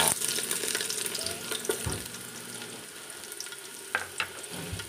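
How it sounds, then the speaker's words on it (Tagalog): Garlic sautés in hot oil with a soft, steady sizzle close by, punctuated by a few brief clinks of stirring, with no talking. "Simulan na natin maggisa. Una kong igigisa ay garlic."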